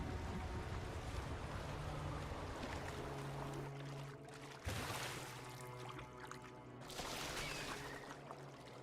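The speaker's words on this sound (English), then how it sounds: "Ah, another waterfall." Rushing waterfall in the video game Wuthering Waves, a loud continuous roar of falling water with a low steady hum underneath, swelling in bursts over several seconds.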